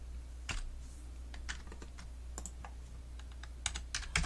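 Keys on a computer keyboard are tapped in short, irregular bursts while numeric values are typed into Blender 3.0, with crisp, close clicks and no talking.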